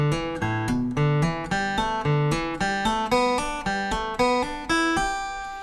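Acoustic guitar plays a beginner hammer-on and pull-off exercise moving across strings, with steady, evenly spaced plucked notes, each ringing and decaying, close and clear with no talking.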